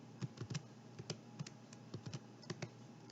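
Computer keyboard keys pressed for a Photoshop hotkey, a quiet, close run of irregular clicks and taps, about a dozen strokes, with no voices.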